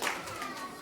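Brief burst of hand clapping from a group, fairly quiet and short, with faint voices underneath.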